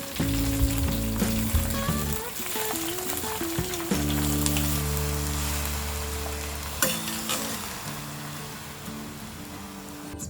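Cooked rice hitting a pan of golden fried garlic and green chilies, a steady, close hiss of frying with occasional stirring scrapes, all under soft melodic background music.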